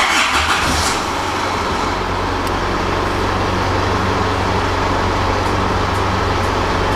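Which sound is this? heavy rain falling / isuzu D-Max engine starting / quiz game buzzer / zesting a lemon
isuzu D-Max engine starting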